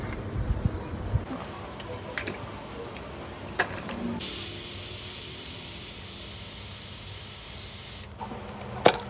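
A loud steady hiss of escaping steam from a pressure cooker boiling toor dal runs for about four seconds, then cuts off abruptly, preceded by faint kitchen clatter.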